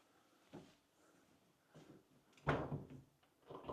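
A door being opened in a house, heard as a few soft separate knocks and clunks, with the loudest latch-like thump in the middle, quiet and close in an otherwise still room.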